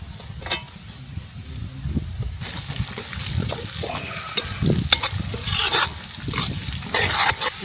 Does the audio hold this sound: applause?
no